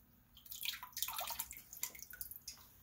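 Cannabis buds shaken in a very cold water bath after a baking soda rinse, giving scattered splashes and drips that come in short bursts, close and fairly quiet, with no talking.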